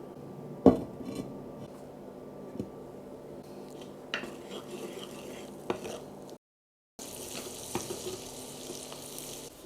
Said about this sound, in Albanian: Tashi që filloj me marr val, do i hodh qepën.